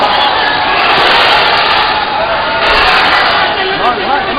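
A boxing match crowd shouts loudly and continuously, close and dense, with individual voices whooping and yelling throughout.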